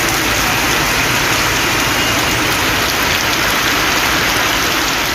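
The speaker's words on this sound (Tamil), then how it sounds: "தரங்கம்பாடி மற்றும் சுற்று வட்டாரங்களில் 1 மணி நேரம் கனமழை கொட்டியது" Heavy rain pours down in Tharangambadi, a dense, steady hiss of downpour that stays loud and unbroken throughout.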